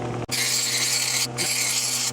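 A grinder cutting down the wall of a steel socket while removing the head of a 1964 Norton Atlas engine, a loud continuous high grinding whine close by, briefly cut off twice.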